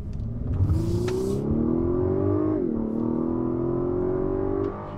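A 2021 Lexus LS 500 accelerating, its engine note rising steadily under load, briefly dipping at a gear change, then climbing again from inside the cabin.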